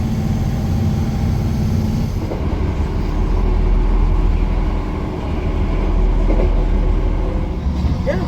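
Passenger train on a scenic circular railway route through Cumbria toward Carlisle, a steady loud rumble of wheels and engine filling the whole stretch, with a faint background voice now and then.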